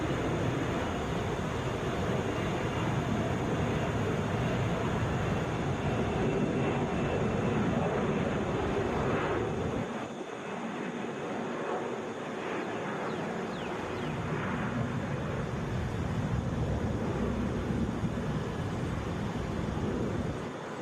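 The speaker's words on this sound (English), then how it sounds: "This is Delta 374 headed to DFW, Airbus A321." A Delta Airbus A321 airliner at Atlanta airport gives off a continuous loud, broad jet roar that dips slightly midway and then holds steady, with no voices.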